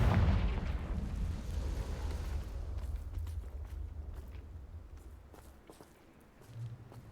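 In the Hogwarts Legacy video game, a Confringo fire spell bursts with a loud, boomy blast at the start, then its roar decays into a low rumble with a softer thud near the end.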